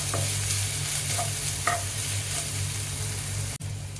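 Crushed ginger, green chilli and garlic sauté in a pan for chana masala, giving a steady sizzle with occasional scraping stirs and a low steady hum underneath, close and continuous with no talk.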